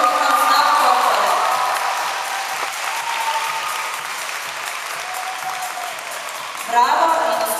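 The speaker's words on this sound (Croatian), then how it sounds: "Mislim da ste svi zaslužili jedan veliki pljesak i molim vas da plješćite" Sustained audience applause at a World Dance Day event on Pag, a dense steady wash of many clapping hands lasting throughout, with a swell near the end and voices faintly mixed in.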